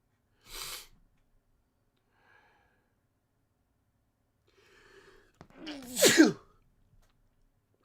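A short sharp breath, then after a quiet pause a loud, explosive sneeze close to the microphone.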